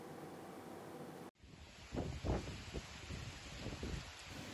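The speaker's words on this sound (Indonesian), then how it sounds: "suasana angin kencang disertai hujan deras" Strong wind with heavy rain on a street in Bondowoso, East Java: a steady rushing roar with gusty swells and buffeting against the microphone, loud and continuous.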